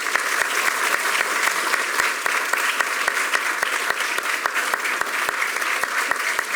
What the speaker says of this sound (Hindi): उनके स्वागत में बहुत सी तालियां बजाएं.